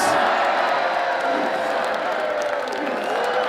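A robot combat audience roars with cheering and sustained applause for the winning Roboteers, a loud, dense wash of crowd noise throughout.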